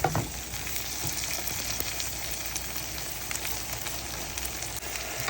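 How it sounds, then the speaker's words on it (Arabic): Butter melting with corn kernels in a pan, a dense, steady crackling sizzle with fine pops throughout, close and continuous, with no voices over it. "لازم الزبده تسيح على الاخر"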